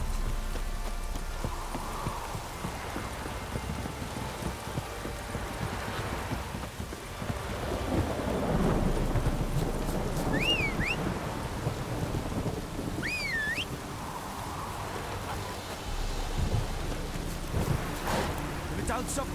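A thunderstorm in The Witcher 3: steady rain on surfaces with rolling thunder, under background game sounds, including a couple of brief whistling tones.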